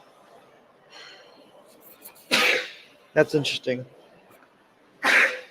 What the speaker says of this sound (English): crazy sneezing and coughing here.